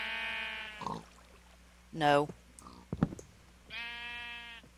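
A sheep in Minecraft bleats loudly several times in short wavering calls, close by, with clicks and a brief grunt between them as someone talks.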